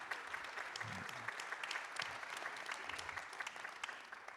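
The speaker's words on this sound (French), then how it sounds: "qu'on peut applaudir" A hall full of conference attendees applauds at a French congress session, producing dense, steady clapping that holds evenly throughout at a modest, slightly distant level, with no voices over it.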